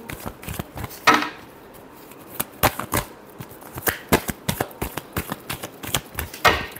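Tarot cards are shuffled by hand close by, making irregular bursts of crisp clicks and riffling snaps that speed up toward the end, with no talking.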